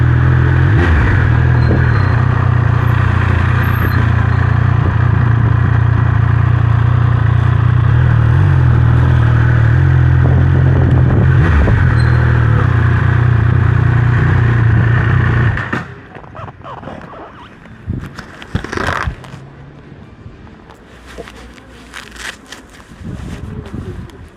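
Triumph Speed Triple 1200 RS motorcycle cruising on cruise control, a loud steady engine drone and road rumble for about fifteen seconds, then dropping away to quieter intermittent clatter and noise.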